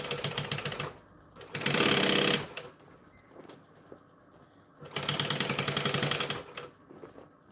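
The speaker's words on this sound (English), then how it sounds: "Now, we're going to stitch a second line." A sewing machine stitches a second line of fabric in two rapid mechanical bursts, separated by a quiet pause, at close range with no talk.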